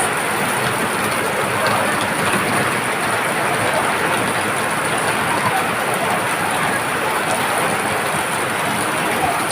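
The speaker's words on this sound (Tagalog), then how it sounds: "Super big rain." Heavy rain pours down in a dense, steady hiss, loud and unbroken throughout, with no voices.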